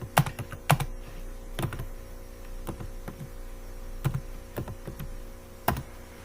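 Fingers typing C code on a computer keyboard, sounding as close, crisp key clicks in short irregular bursts with pauses between, over a low steady hum, with no talking.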